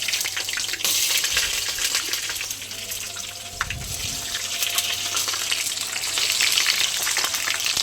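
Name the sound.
butter sizzling in hot oil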